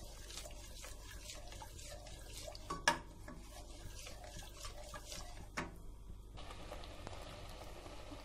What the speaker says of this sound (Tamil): பீட்ரூட் நல்லா இப்போ கொதி வந்துடுச்சு.